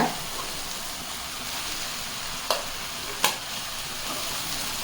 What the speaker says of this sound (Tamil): கொஞ்சம் கொஞ்சமாக கிளறி விட்டுக்கோங்க.